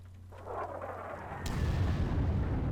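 Artillery fires in the Panzer Corps strategy war game. A deep rumbling boom builds and swells, growing heavier and louder partway through, with no voices.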